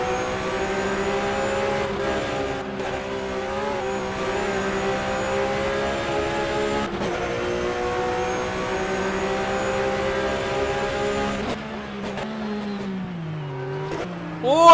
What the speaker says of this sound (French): la dérive de Logan Joyeux qui va perdre sa voiture